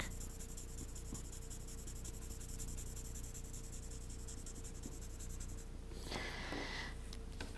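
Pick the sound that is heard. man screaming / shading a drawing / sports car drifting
shading a drawing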